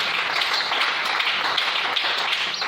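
A church congregation applauds with steady, dense clapping from many hands that holds evenly throughout, with no break.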